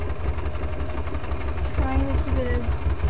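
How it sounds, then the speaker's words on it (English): A sewing machine stitches down the hem of a corset tank top with a steady, fast mechanical whir and rapid rhythmic needle thumping throughout, and a voice is faintly heard partway through. "just sew right down your hem"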